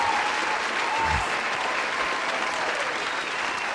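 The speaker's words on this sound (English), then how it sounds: "Let me get a little bit of round of applause in this motherfucker." A podcast studio audience claps in a sustained, dense round of applause that holds steady and close for several seconds before cutting off abruptly.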